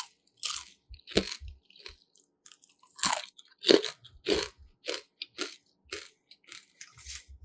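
Crisp baked cheese and onion chips crunched close up, a series of sharp, loud bites and chews in irregular bursts with short pauses between them, no talking.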